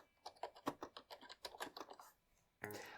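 Someone types a preset name on a computer keyboard, a fast run of crisp, close keystrokes in an irregular rhythm. A brief pause follows, then one louder clack.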